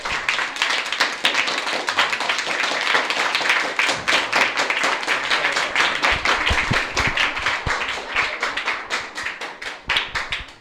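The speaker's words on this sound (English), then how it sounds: "just give Elquemedo Tonito Willet another big round of applause." Audience clapping a round of applause for veteran West Indies cricketer Elquemedo Willet at a gathering, dense steady hand claps filling the whole stretch and thinning slightly toward the end.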